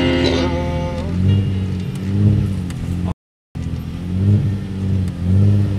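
A Shelby car's engine revs and accelerates hard forward, loud and close, its pitch rising and falling in surges, with a short dropout partway through.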